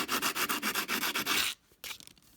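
Standard sandpaper rubbed by hand along the edges of dolomite, granite and quartzite stone, heard as a fast run of rhythmic gritty strokes that stops abruptly, followed by one brief scrape.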